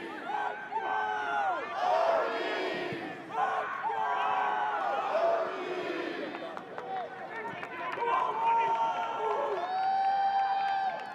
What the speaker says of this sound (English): The crowd as well trying to create some energy in Blacksburg.